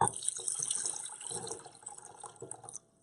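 Kangen water drained from soaked tomatoes is poured into a white bowl, a steady close splashing pour that runs for nearly three seconds before cutting off abruptly.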